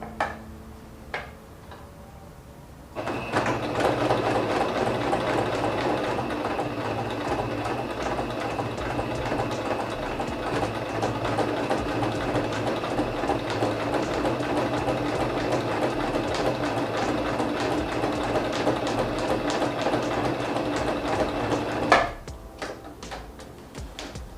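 A sewing machine stitches a sewn album in one steady run of about twenty seconds, its rapid mechanical ticking close and even, starting abruptly and stopping with a clunk in a quiet room.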